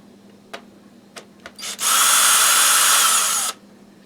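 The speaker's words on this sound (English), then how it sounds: "I'm going to put my Torx bit in my screw gun." A cordless screw gun fitted with a Torx bit whirs for about two seconds as it backs screws out of a Dyson DC41 Animal vacuum, preceded by a few short clicks and taps, loud and close with no talk.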